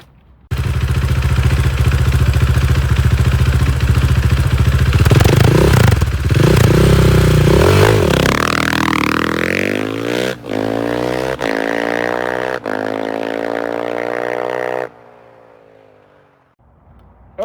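KTM 500 motorcycle, starting in second gear, accelerates hard from a standstill. The engine roars loudly and climbs through several rising gear pulls with brief gaps at the shifts, then cuts off into near silence.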